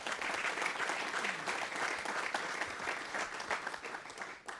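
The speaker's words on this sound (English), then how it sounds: "We can give them a round of applause." Audience applause fills a hall at a high school academic competition semi-final, a steady dense wash of many hands clapping at moderate distance, holding evenly for several seconds before tapering near the end.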